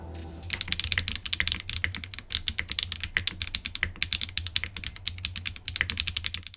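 Rapid clicky keystrokes on a mechanical keyboard, close and crisp, typed in quick uneven bursts with short pauses, with no voices.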